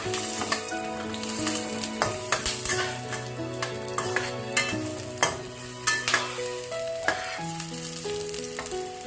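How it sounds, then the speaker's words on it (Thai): Shallots are stir-fried in a pan, with a continuous sizzle broken by frequent sharp clinks and scrapes of a utensil against the pan. Steady background music plays throughout, and no one speaks. "ขออนุญาตผัดต่อก่อนนะคะ"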